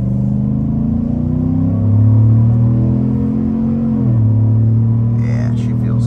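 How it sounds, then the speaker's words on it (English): A 2024 GMC Sierra 1500 Denali pickup accelerates at half throttle, a steady, fairly loud engine drone whose pitch holds, then dips and settles around the midpoint, with a few higher clicks near the end. "Open her up about half throttle."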